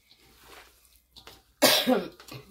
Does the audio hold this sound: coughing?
yes